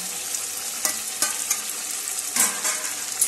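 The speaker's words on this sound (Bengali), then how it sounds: "মাছটা একদম হয়ে গেছে কষানো, এর মধ্যে আমি আলু আর এই কাঁচা লঙ্কাগুলো দিয়ে দেবো," Tora (ban) fish sizzles loudly in hot oil as potatoes and green chillies go in, a steady bright crackle punctuated by a few sharper spatters and stirring scrapes.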